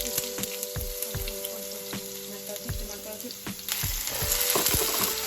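Potato pieces fry in hot oil in a pan, a constant close crackling sizzle with low thumps and knocks from the pan, growing louder toward the end, with no talk.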